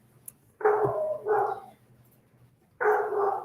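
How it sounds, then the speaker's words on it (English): A pet dog barks indoors in three loud, drawn-out bursts close to the microphone, each bark held and throaty, with quiet pauses between them and no talk over it. "It's my dog, Marlo, going crazy"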